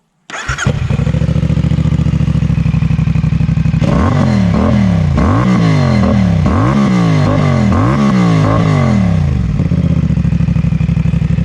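A CFMoto 450SR S motorcycle with an aftermarket Vandemon exhaust idles loudly, then revs several times in quick rhythmic bursts before settling back to a steady, throaty idle.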